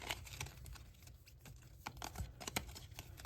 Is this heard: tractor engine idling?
no